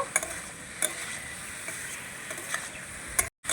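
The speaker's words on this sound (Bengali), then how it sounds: "ভালো করে নাড়াচাড়া করে আবারও আমি মিশিয়ে নেব।" A spiced pumpkin and potato curry with sugar is stirred in a pan, soft scraping and occasional spoon taps over a low continuous sizzle, close by.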